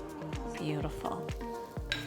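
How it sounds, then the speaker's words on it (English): A stir stick scrapes through milk paint to the bottom of the container in repeated strokes about twice a second, close and distinct. "So taking a stir stick, you want to go right to the bottom"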